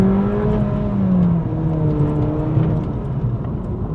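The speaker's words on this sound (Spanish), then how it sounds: "sientes que el motor hace mucho ruido, pero en verdad no sientes que el auto se mueva" A 2026 Volkswagen Polo engine revs hard in Sport mode, a loud steady drone with rising and sliding pitch, heard from inside the car with no talk over it.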